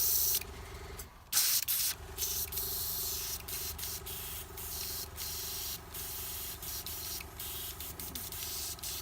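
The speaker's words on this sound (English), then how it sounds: "When spraying the cleaner, I always spray it into a tissue" An airbrush sprays cleaner into a tissue, hissing steadily in a continuous broadband rush, close up, with a few brief pauses where the flow cuts off.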